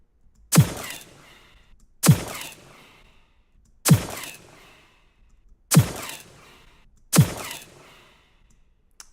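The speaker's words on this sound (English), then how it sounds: "Oh, fireworks sounds." Five sharp, booming firework bangs, each followed by a short crackling decay, spaced evenly about one and a half seconds apart, loud and alone with no talk.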